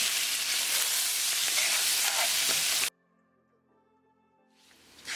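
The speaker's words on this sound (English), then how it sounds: "We're going to cook the spices in the butter." Spices and paneer fry in butter in a pan, a loud close sizzle with stirring scrapes for about three seconds before it cuts to near silence and the sizzle creeps back at the end.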